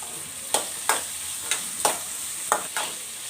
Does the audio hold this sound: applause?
no